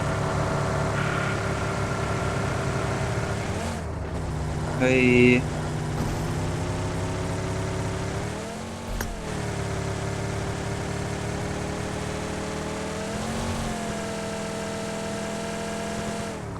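A video game car engine hums steadily nearby, its pitch gliding up and down as the vehicle drives, with a short shout and game effects over it.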